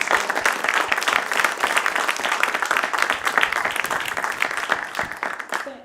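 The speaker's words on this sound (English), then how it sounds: "How about we give Dr. Bathke a round of applause?" An audience applauds a presenter at a climate talk, a dense, steady round of clapping from many hands that holds evenly for several seconds and fades slightly at the end.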